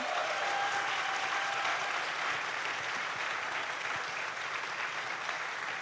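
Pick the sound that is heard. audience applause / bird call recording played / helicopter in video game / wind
audience applause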